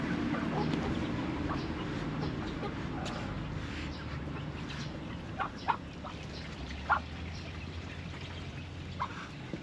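A rescued duck quacks in a backyard garden alongside other fowl, a few scattered, fairly near calls and clucks over a soft, low background hum.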